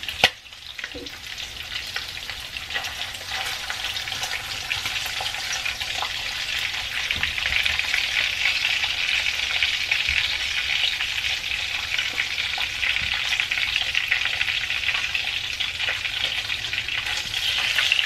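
Bacon sizzles and crackles steadily in a hot pan, a dense, even frying hiss that holds for the whole stretch with no talking.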